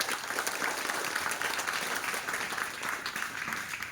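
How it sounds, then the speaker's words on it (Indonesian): An audience applauds at a school farewell ceremony for ninth-grade students, sustained even clapping from many hands filling the room without pause, moderately loud and steady. "Kita beri aplaus dulu."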